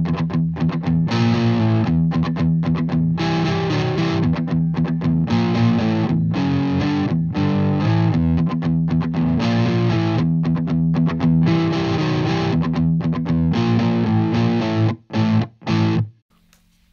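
Distorted electric guitar plays a riff at a slowed tempo, a loud, dense chugging line of palm-muted notes that runs continuously before cutting off in a few short final stabs.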